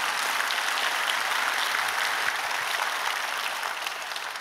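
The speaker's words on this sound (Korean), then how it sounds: "주님께 영광의 박수 올리겠습니다." A church congregation applauds together at a summer Holy Spirit revival gathering, producing a dense, steady wash of clapping that stays loud throughout and fades slightly near the end, with no voices over it.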